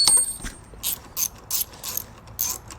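A socket wrench with a very long socket ratchets on exhaust manifold bolts, giving a series of short crisp clicking bursts with brief pauses between them, close and fairly quiet.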